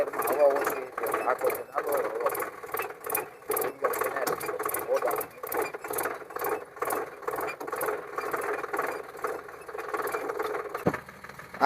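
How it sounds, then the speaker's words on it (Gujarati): A farm tractor drives along a village farm track, its engine chugging in a fast, steady, loud pulse that runs without a break from start to finish. "હું ટ્રેક્ટર લઈને નીકળી ગયો"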